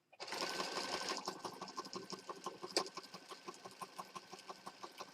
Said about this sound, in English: Sewing all the layers together.